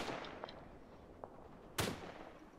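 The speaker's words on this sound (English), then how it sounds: "I'm gonna drop some artillery on that" Scattered distant booms and cracks of an artillery strike in the WWI game Tannenberg, a few faint thumps followed by one louder sharp impact.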